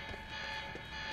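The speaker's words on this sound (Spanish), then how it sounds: "Esa alarma debe haber cerrado todo." Steady electronic alarm tone from the video game Quantum Break, a continuous sustained ring holding at an even level throughout with faint low background noise beneath.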